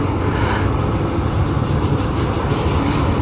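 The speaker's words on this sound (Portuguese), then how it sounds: "Olha o trem." A train passes nearby with a loud, steady rumbling roar and rolling rattle of wagons on the rails, continuous throughout with no speech.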